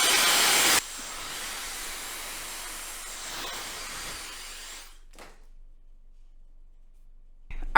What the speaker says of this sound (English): gonna do the same blow dry, medium heat with my Dyson